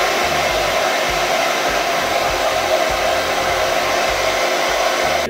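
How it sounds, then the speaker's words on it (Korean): A hair dryer on medium setting blows in a steady, continuous whoosh, close and fairly loud, running alone without any talking until it cuts off at the end. "드라이기 중간 바람으로"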